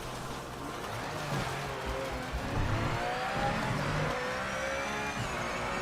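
A rear-engine race car in the Project Motor Racing video game drones steadily, its engine note climbing and shifting as it accelerates.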